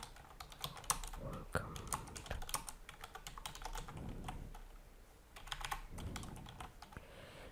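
Steady typing on a computer keyboard while an email subject line is entered, with quick irregular clicks and short pauses between bursts of keystrokes, close and fairly quiet with no talking.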